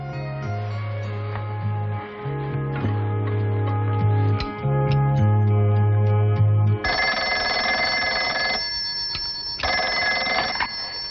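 An old 1970s telephone bell rings loudly and insistently alone. It starts over a low musical drone, then switches to brighter, harsher rings with short gaps between them.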